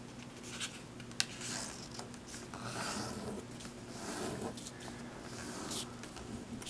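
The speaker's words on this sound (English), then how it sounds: "let's start out by folding in half. And unfold, and fold in half the other way" Sheets of origami paper being folded in half and unfolded, giving close, continuous crisp rustling and crinkling with a sharp crease snap early on.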